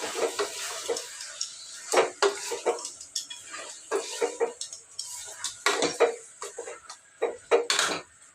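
Mutton keema with turmeric being stirred in a pan, a string of close metal-spoon scrapes and clinks in irregular bursts over a faint sizzle.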